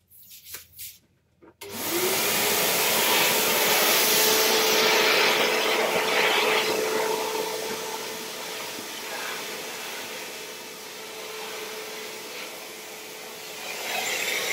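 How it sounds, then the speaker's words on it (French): A household vacuum cleaner starts after a few short bumps and then runs steadily with a loud, broad roar. The pitch and loudness shift a little as it moves, and no one speaks. "je vais aller passer l'aspirateur"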